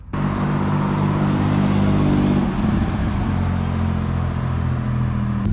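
A turbocharged 3800 Camaro with a custom 3-inch exhaust rumbles loudly nearby, heard from outside, holding a deep steady drone, then shifting pitch midway as it revs and settles into a throaty exhaust note.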